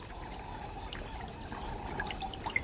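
Floodwater flowing into dry channels and lagoons in Botswana's Okavango Delta, a faint, steady trickle and burble with small scattered splashes and drips.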